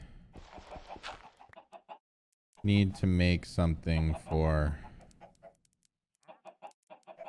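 Minecraft chickens cluck in short, repeated bursts through the opening seconds and again near the end, with a voice speaking loudly in the middle.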